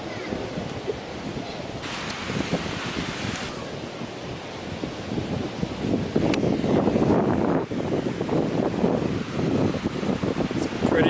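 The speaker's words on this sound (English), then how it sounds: "It's actually not as windy as I thought it was." Wind blows steadily across a busy beach with surf washing in. The broad rushing noise is moderate, grows stronger and gustier in the second half, and no one speaks.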